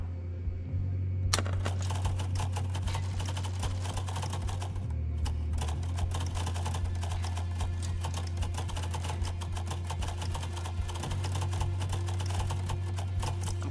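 Fast, continuous keyboard typing while playing the typing game Nimros, a steady rattle of keystrokes over a low constant hum, with no talk.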